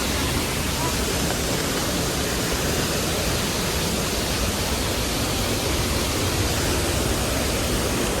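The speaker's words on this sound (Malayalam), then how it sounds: "നല്ല മഴയുണ്ട്." Heavy rain pours down near Mankayam waterfall in a forest, a steady, dense broadband roar that stays loud and even throughout without pause.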